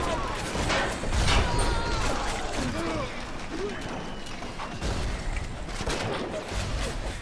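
Gunfire in the video game BioShock Remastered, a dense, sustained burst of rapid shots and crashing impacts filling the whole stretch, with a voice talking underneath.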